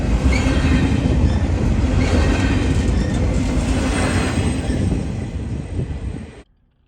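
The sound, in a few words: freight train of empties passing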